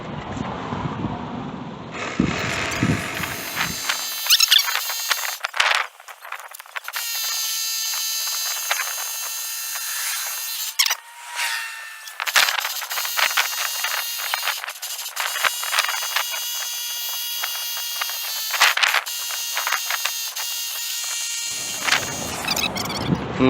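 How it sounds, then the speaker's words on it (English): A small cigarette-lighter-powered tire inflator runs steadily for a long stretch while seating a tire bead, giving a continuous buzzing whine with a few brief interruptions and shifts, close by and alone without talk. "I'm using my buddy's cigarette powered tire charger."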